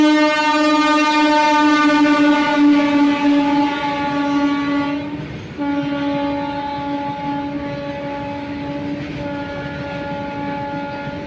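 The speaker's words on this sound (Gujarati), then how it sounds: "ફાઇનલી આપણી ટ્રેન આવી રહી છે." A train pulls into a railway station on a trip toward Keshod, its loud, sustained horn blaring close by for the whole stretch. The horn dips briefly midway, then resumes over rumbling rail noise, with no talking.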